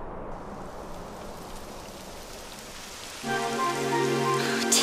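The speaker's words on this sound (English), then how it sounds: "It would have to go and start raining, wouldn't it?" Rain begins in the video game Dragon Quest XI as a steady hiss of falling drops, with a sustained musical tone entering partway through, and no voices.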